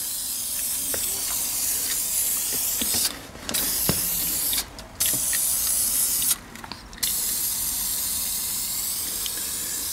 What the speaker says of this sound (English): I'm gonna spray everything.